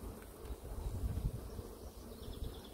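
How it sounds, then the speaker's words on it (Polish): Honeybees buzz around an open hive frame, a close, low droning hum that swells and fades irregularly, with faint rustling handling noise and no talk. "Czyli pszczoły pracują."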